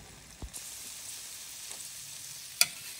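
An egg frying in a pan gives a steady, soft sizzle with a few faint clicks and one sharp tick near the end, with no voices.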